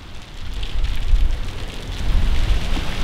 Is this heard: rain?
yes